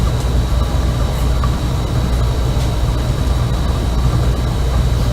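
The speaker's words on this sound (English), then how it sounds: "my shop here is in the basement, and that's the oil burner coming on" A steady low rumble and hum of an oil burner running continuously in a basement workshop, with a faint constant high whine over it, no voices.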